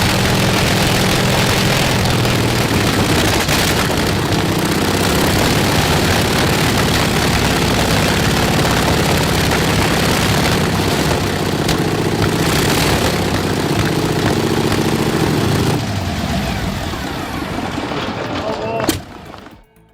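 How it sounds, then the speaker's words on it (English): An old nine-cylinder engine runs in a rhythmic pump, a loud continuous heavy drone with a steady pulsing beat that fades away near the end, with a voice talking over it. "those 9 cylinders settle into a powerful, rhythmic pump"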